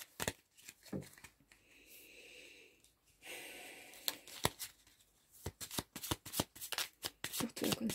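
Small playing cards are shuffled close by, a series of quick riffling flutters and soft slaps, with light breathing and faint voices around.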